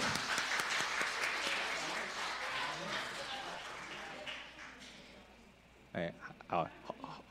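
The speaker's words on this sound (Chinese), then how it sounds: "我们拍拍手，欢迎他们今天来参加我们的聚会。" A church congregation at a Sunday service applauds to welcome guests, a loud burst of many hands clapping that gradually fades out, followed by a person speaking near the end.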